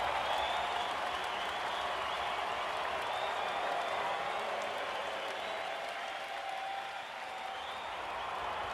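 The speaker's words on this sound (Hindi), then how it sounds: "क्राउड की आवाज बता गई है ये कोई नॉर्मल शॉट नहीं था।" Sustained roar of a large cricket stadium crowd cheering and applauding after a six in an IPL match, a dense, steady wash of noise that holds for several seconds without fading.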